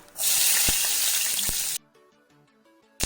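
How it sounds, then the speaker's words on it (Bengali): Black cumin and four slit green chillies hit hot oil with a loud, bright sizzle that rushes in and holds steady for over a second, then cuts off sharply into quiet, with a brief burst of sizzle returning at the very end. "এবার ওই তেলে দিয়ে দিচ্ছি একটু কালো জিরে, 4টে চেরা কাঁচা লঙ্কা"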